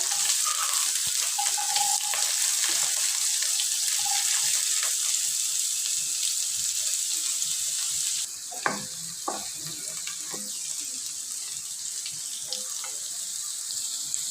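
Chopped onions hit a hot oiled pan for a mushroom gravy, a steady bright hiss of sizzling frying that continues, with a few clinks and stirring scrapes as the onions are moved around.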